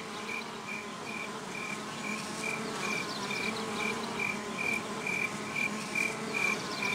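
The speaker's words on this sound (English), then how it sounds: "All of the insects, for that matter, are probably a lot louder than they need to be." A layered insect audio loop of buzzing bees or flies and chirping crickets plays continuously, with a steady drone under a regularly repeating high trill, even and moderately loud, with no voices.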